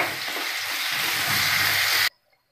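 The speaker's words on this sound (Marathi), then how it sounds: "कांदा चांगला परतवून घेऊ." Onion sautéing in a pan for a cauliflower and green pea curry gives a loud, steady sizzle and crackle for about two seconds, then cuts off abruptly into near silence.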